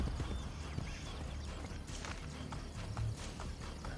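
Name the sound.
horse galloping in the video game Assassin's Creed: Brotherhood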